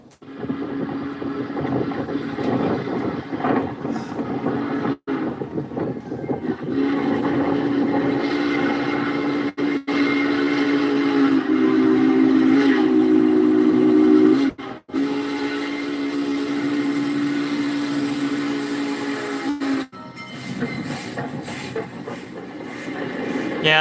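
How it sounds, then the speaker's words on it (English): Union Pacific 4014 steam locomotive passing, with a steady rumbling roar of the train and a long sustained whistle tone across the middle, fairly loud and close, with faint voices. "It was so cool to see the steam engine for the first time."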